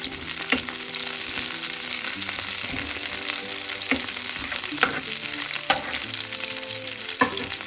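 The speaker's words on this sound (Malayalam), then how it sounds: "ഈ സമയം ഇതിലേക്ക് കറിവേപ്പില ചേർക്കാം" Curry leaves and green chillies fry in oil for a green chilli yogurt curry, making a dense close sizzle broken by regular sharp spatula clicks against the pan.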